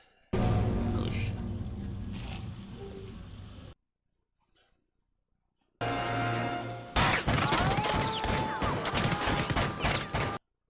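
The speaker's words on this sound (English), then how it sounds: "Steady hand with repeated fire and didn't hit him." Movie gunfire from The Crimson Rivers: a loud scene with crashes and impacts, a stretch of near silence, then a burst of rapid repeated shots with ringing tones, sharp and close.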